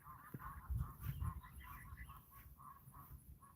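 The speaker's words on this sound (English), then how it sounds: "Y'all hear the geese next door?" Geese honk repeatedly at a distance, a loose chorus of nasal calls over a quiet background.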